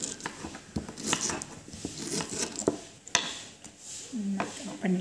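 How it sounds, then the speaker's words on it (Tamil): A knife slices through a whole pineapple into neat pieces, giving a run of close, irregular crunchy cuts and small clicks against a board, with faint kitchen noise behind. "நம்ம நல்லா ஸ்லைஸாக கட் பண்ணிக்கலாம்."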